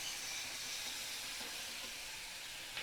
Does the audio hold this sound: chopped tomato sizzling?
yes